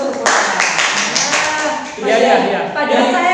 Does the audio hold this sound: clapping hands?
yes